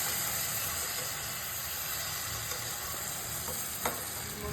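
Spices frying in a pan while making a soupy Maggi noodle dinner, a steady low sizzle and hiss with a few faint clicks, no voices.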